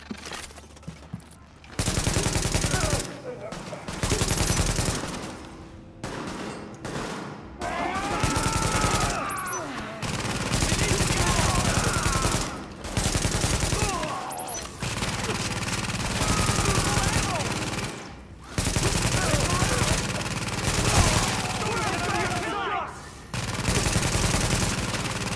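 Sustained heavy gunfire from a rooftop gunner in The Division, at a field hospital: loud automatic bursts and repeated shots continue through most of the stretch, with brief pauses, game ambience and occasional voices mixed in.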